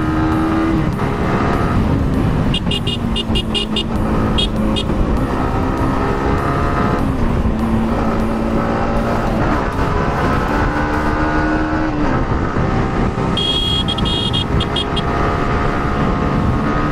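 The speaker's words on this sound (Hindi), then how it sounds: "बहुत ज़्यादा ट्रैफिक है यार" Heavy road traffic rumbles steadily in Sidra, with motorbike engines droning, repeated horn toots and vehicles passing close by, loud and continuous throughout.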